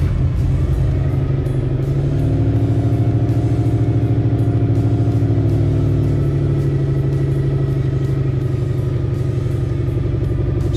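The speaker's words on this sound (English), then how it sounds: "Let's fire the car up" Toyota 1UZ turbocharged V8 car engine running at a steady, loud, close idle with a deep, even rumble throughout and no voices.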